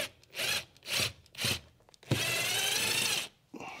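Screws being worked loose from a Jaguar XJS door card, heard as three short scraping bursts followed by one longer continuous grind, close and fairly loud.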